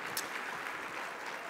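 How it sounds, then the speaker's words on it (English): Audience applause at a luncheon event, a brief steady wash of clapping from a room full of people, moderately loud with no voices standing out. "So give him a round of applause one more time"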